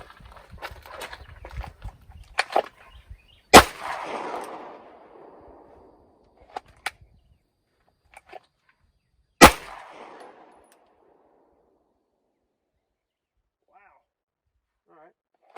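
Two sharp, loud pistol gunshots ring out at target practice about six seconds apart, each leaving a short echoing tail, with quieter clicks, handling noises and faint movement around them.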